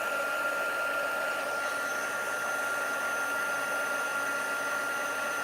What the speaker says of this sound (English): I should have heated up my heat tool first